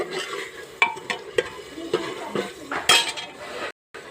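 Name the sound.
stir-frying garlic paste in pan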